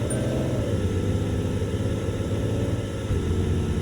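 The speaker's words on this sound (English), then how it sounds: "Now, I will say the fan kicks on. You guys can hear that." Steady engine drone from a race car in a racing video game with its cooling fan kicking on, a loud continuous low hum and whir throughout, no talking.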